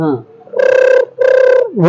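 A mimicry artist voices a telephone ring in two sustained, buzzing bursts with a short gap between them, loud and close, framed by brief vocal sounds.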